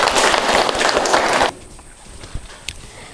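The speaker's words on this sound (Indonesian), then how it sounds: "Tepuk tangan untuk kita semua dulu." Classroom of students claps together, a loud burst of many hands applauding at close range that stops abruptly after about a second and a half, leaving quiet room noise with a few stray sounds.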